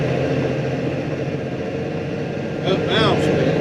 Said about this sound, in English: The tractor's struggling to get up.